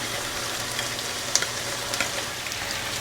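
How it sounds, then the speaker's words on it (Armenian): Rice frying with chicken meat in vegetable oil gives a faint, steady sizzle with a few small clicks of stirring, with no voices. "բրինձը մի փոքր ամրանա"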